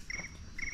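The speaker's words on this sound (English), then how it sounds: "Crickets in the background." Crickets chirping in the woods, repeated high trilling pulses that come in two short bursts, faint and distant over a quiet background.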